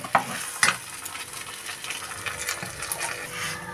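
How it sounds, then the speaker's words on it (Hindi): Ground lentils stirred and roasted in oil in a pan, a soft continuous scraping and dry sizzle with a couple of sharper utensil knocks near the start, close and moderately quiet with no talk. "अब ये पीसी हुई दाल को हम इसमें डाल देंगे और 5 मिनट तक हम इसे भून लेंगे।"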